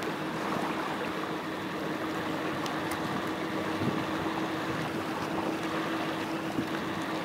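A steady boat motor drones throughout on a seal hunt in Greenland, with wind buffeting the microphone, a constant low hum with no pauses.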